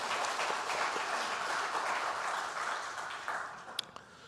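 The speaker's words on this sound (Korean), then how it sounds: "박수 한번 할까요?" A church congregation applauds during a Sunday service, a broad wash of many hands clapping that gradually thins and fades, ending with a few scattered last claps.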